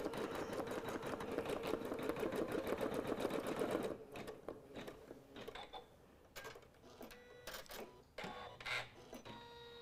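An embroidery machine stitches an appliqué Christmas ornament, giving a fast mechanical chatter that runs steadily before breaking into intermittent bursts and clicks, fairly faint and close.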